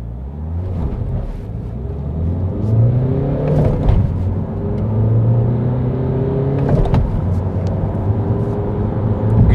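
A Ford EcoSport engine revs up steadily as it accelerates hard from 0 to 100, pitch climbing through the gears with brief shifts, loud and close from inside the cabin.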